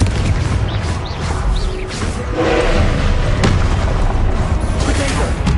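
A Confringo spell blast in the Hogwarts Legacy video game: a heavy booming explosion, thudding and crashing within a dense, loud wash of combat noise that runs throughout.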